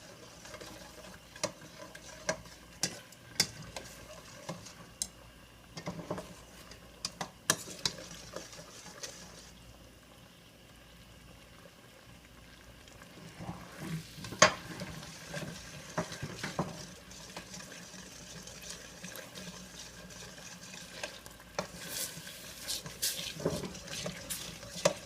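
Thai green curry paste and coconut are stirred in a pan as they simmer, giving a faint, continuous soft scraping with a low sizzle and scattered light ticks of the utensil against the pan.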